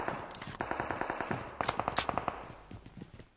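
Rapid automatic gunfire from a battle royale shooter rattles in quick bursts, shots overlapping with echoing reports, a louder burst in the middle before tapering off.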